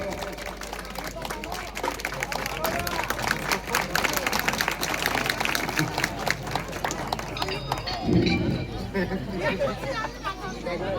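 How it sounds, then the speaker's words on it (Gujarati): At a welcome ceremony in Kanzara village, an audience claps continuously for an honoured guest. The dense, sustained clapping is close and lively, with chatter and voices mixed in throughout. "સાહેબની તાળીઓથી વધાવો."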